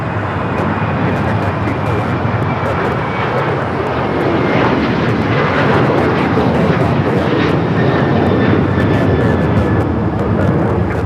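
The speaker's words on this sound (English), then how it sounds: "This is United Airlines 1571 taking off to Houston Intercontinental on the 737-900ER" A United Airlines Boeing 737-900ER takes off at LAX with a loud, continuous jet roar that builds slightly and stays dense throughout, with faint engine whine tones sliding in pitch.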